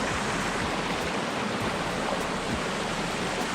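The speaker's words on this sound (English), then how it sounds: "Lovely fresh water running all the way down." Fresh mountain stream water rushes steadily downhill in a dense, even roar, heard close and loud throughout the short stretch with no other sounds.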